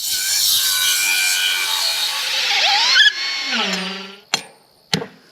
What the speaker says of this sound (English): I'm going to go ahead and grind this other hinge off